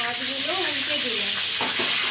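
Hilsa fish heads fry in mustard oil in a wok after being turned, giving a steady, loud sizzle with a brief stir near the end.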